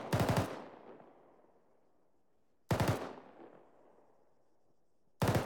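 Mortar rounds fired in a video game at a seal, three heavy booming launches spaced a few seconds apart, each a sharp loud blast trailing into a long fading rumble, with no voices.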